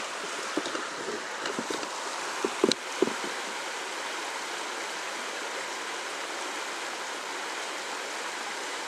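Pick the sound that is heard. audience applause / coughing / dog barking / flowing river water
flowing river water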